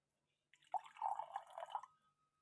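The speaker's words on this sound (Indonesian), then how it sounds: "kita isi air 1/4." Water is poured into a glass until it is a quarter full, making a brief, soft burbling trickle that lasts about a second and a half in a quiet room.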